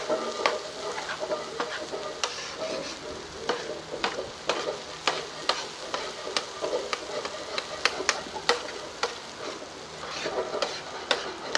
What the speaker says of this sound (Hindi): इसे मिक्स कर लेंगे ताकि मसाला अच्छे तरीके से इसमें रच जाए।